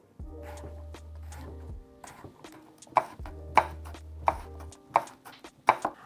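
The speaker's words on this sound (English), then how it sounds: "And I'm just going to cut these in half moons." A knife slices snap peas or vegetables into half moons on a cutting board. Crisp chops come in an irregular rhythm, with clearer close thuds in the second half and a low steady hum underneath.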